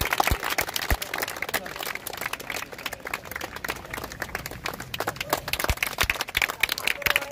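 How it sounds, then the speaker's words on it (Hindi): A crowd at a commando defence academy event in Ranchi claps in scattered, uneven bursts of individual hand claps, moderately loud and continuous, with some background voices. "उनके लिए भी जोरदार ताली।"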